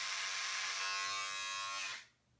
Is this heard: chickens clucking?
no